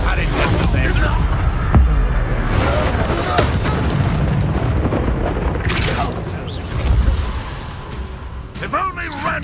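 Loud, dense booms from the Confringo blasting spell in Hogwarts Legacy roll through a busy fight, one heavy blast after another with rumbling debris and crackle, thinning briefly near the end before more bursts.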